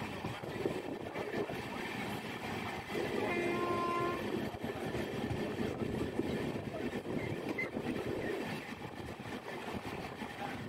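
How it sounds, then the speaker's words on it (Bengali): The 13161 Tebhaga Express, a Kolkata–Balurghat passenger train, rumbles past near Chandanpur, heard from a moving train with a loud steady roar of wheels and carriages and a brief horn-like tone, no voices. "চন্দনপুরের সামনে আমরা অতিক্রম করলাম 13161 কলকাতা থেকে বালুরঘাটগামী তেভাগা এক্সপ্রেসকে"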